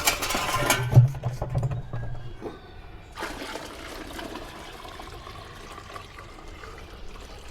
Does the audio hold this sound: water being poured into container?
yes